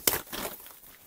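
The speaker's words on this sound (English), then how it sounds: "of course we need to take off the plastic bag" A plastic bag crinkles briefly and close up as it is pulled off a guitar, a few quick rustling crackles lasting about a second.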